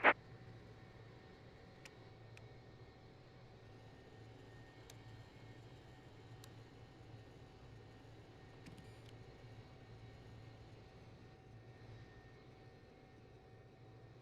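Simulated BAe146-300 jet engines spooling up in X-Plane 11, a steady low drone and hum that holds evenly throughout, with a few faint clicks above it and no talk.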